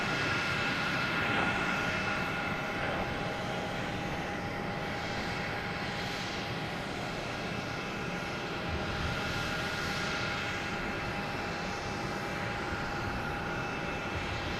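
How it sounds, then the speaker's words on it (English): A Cape Air plane takes off from Boston Logan bound for Provincetown, its engine a faint, steady droning hum heard from afar for the whole stretch, with no voices. "Cape Air heading to Provincetown"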